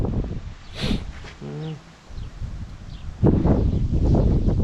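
Wind blowing outdoors in a vegetable garden with pumpkin, gourd and cucumber plants: gusty, rumbling buffeting comes and goes, growing stronger and steady in the second half, with a brief bird call early on.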